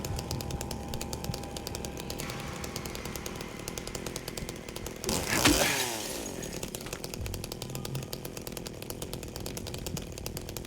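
A chainsaw from the video game Silent Hill 2 (2024), a continuous buzzing engine drone that briefly revs louder mid-way before settling back to a steady idle, with no talking.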